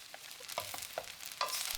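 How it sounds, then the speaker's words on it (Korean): Chopsticks scramble egg in a frying pan pushed beside bacon fried rice, giving a few quick faint scrapes and taps over a soft sizzle, quiet and brief with no voices. "젓가락으로 휘저어가면서 계란을 몽글몽글하게 만듭니다"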